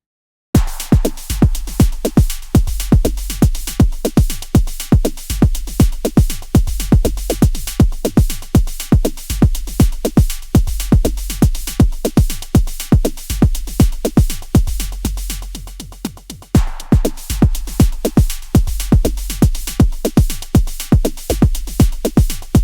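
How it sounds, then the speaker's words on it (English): A loud, continuous synthesized drum beat from the BLEASS Alpha iPad synthesizer, punchy kicks and crisp hits in a steady, driving rhythm, dipping briefly before the pattern resumes. "you're hearing synthesized drum sounds that only came out of the Alpha synthesizer"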